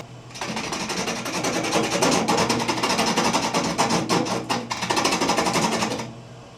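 Wood lathe spinning a turning blank, a loud continuous whirring drone with a steady low hum and rapid rhythmic chatter that swells and eases, close up, starting and stopping abruptly, with no talking.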